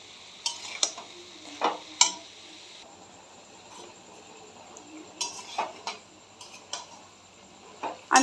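Spoon or spatula scraping and tapping in a pan as red poppy seed paste, ground with red chillies, is stirred into bottle gourd greens; irregular close clinks and scrapes at a moderate level, no talking.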